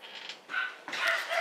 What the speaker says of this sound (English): I'm gonna let the dogs out